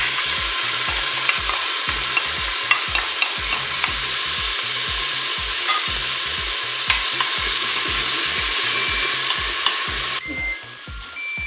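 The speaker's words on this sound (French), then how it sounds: "je vais quand même commencer à mettre mes oignons parce que l'huile est chaude" Onions sizzling and frying in hot olive oil inside a Cookeo multicooker, a loud, steady crackling hiss with rhythmic stirring scrapes throughout, easing slightly near the end.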